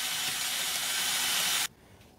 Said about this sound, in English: I have been running it and spraying some Windex in there